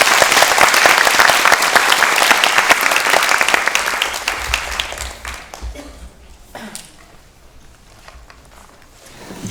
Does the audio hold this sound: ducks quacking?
no